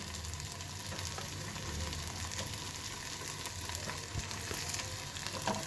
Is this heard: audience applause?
no